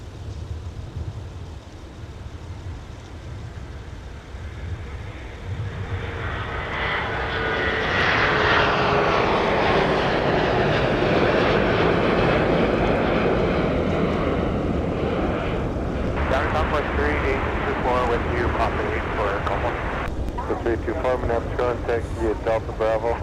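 A new Eastern Air airliner in fingerprint livery moves at MSP airport in winter, its jet engines rising into a loud, steady roar with whining tones that builds over several seconds and holds, while a person talks over it.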